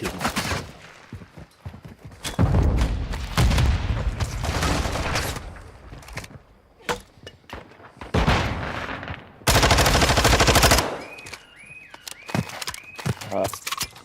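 Shotgun fire and other gunshots in the video game DMZ come as loud, heavy blasts in bursts, with sharp individual reports between them and players talking in between.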